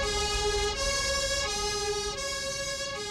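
A fire engine siren in the rescue video game Global Rescue wails in a repeating rise-and-fall pattern, each cycle lasting under a second, loud and steady against a low rumble of engine noise.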